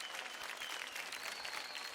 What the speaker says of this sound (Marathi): जोरदार टाळ्या होऊन जाऊ द्या आपल्या मास्टर सोनियासाठी.